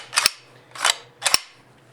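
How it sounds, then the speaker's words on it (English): An airsoft AK's full-travel bolt racked back and forth three times, each cycle a crisp metallic clack-snap, close and clear with quiet pauses between. "Then we have the bolt, nice full travel bolt, and really cool sounds too."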